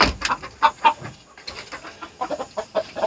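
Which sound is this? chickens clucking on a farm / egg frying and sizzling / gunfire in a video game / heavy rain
chickens clucking on a farm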